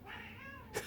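A cat meows once, a drawn-out rising and falling cry close to the microphone, ending in a brief sharper squeak near the end.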